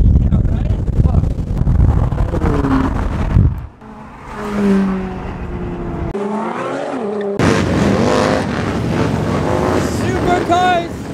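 Ferrari supercars driving past during a Los Angeles car rally, loud engine roar and revving that rises and falls, with voices talking over the engines at times.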